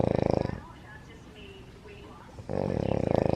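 A person snores nearby in loud, rhythmic, rattling pulses, pausing briefly in a quieter stretch with low background noise before the heavy rasping snore resumes.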